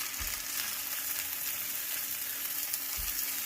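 Chorizo sizzles in a frying pan alongside grated potatoes for a breakfast hash, a steady close hiss of frying fat with two brief low thumps near the start and end.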